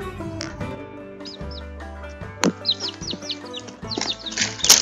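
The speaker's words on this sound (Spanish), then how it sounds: "Ahí está el primer pollo nacido, empollado por las patitas." Soft high peeps of a newly hatched chick, brooded by ducks, come in short bursts over a low background hum, with occasional louder chirps and a brief knock.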